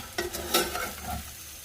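Potatoes browning in a hot pan give off a close, steady sizzle and crackle, with a couple of louder scraping bursts as they are moved about.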